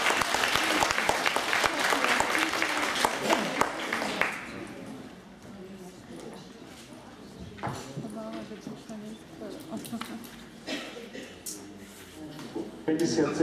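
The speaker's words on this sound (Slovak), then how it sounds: "Zatleskáme." Indoor audience applause at a municipal flat tenant lottery draw in Žilina: about four seconds of loud, dense clapping that fades out, followed by someone speaking over a quieter room.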